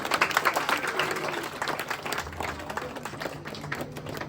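An award ceremony audience claps as the chief guest is invited on stage, a dense, fairly close round of applause that gradually thins out over several seconds.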